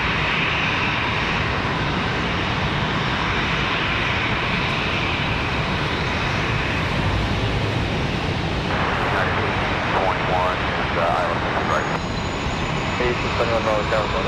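Airliner engines roar steadily at Raleigh Durham International Airport on a windy day, a loud continuous rumble with wind noise that swells toward the end, alone with no talk.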